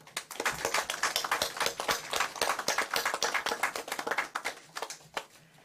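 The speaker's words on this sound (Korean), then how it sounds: "박수와 함께 본행사를 시작하겠습니다" Applause from the audience at a committee launch ceremony: a dense, steady run of many hands clapping, moderately loud and sustained, thinning out toward the end.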